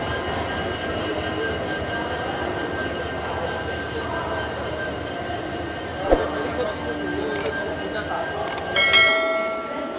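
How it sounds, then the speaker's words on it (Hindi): Chandigarh Karnataka Sampark Kranti Express hauled by a WDP4D diesel locomotive at Hubli Junction platform 1, a steady rumble of the train and station ambience with brief clanks and a short high squeal near the end. "WDP4D लोकोमोटिव के साथ आ चुकी है अपनी चंडीगढ़ कर्नाटका संपर्क क्रांति एक्सप्रेस हुबली जंक्शन के प्लेटफॉर्म नंबर 1 पे।"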